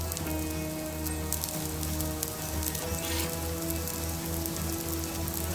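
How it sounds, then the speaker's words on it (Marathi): Grated raw potato frying in oil in a pan for a quick breakfast, giving a steady, even sizzling hiss throughout, moderately quiet and close, with no talking. "थोडंसं परत तेल टाकून घेऊया"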